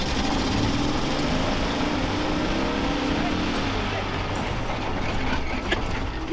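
A Rokon motorcycle engine held at full throttle in low range and first gear, roaring as a loud, steady, buzzing drone throughout, with voices over it.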